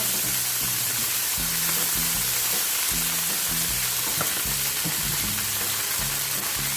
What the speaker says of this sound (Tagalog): Now I put in my sisig.